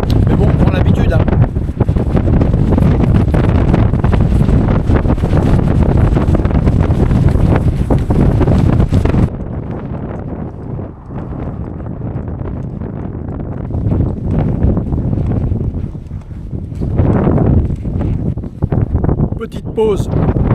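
Heavy wind on exposed, shelterless ground in Tierra del Fuego buffets the microphone in a constant low roar, loud at first and then easing to gustier rumbling with faint talk underneath.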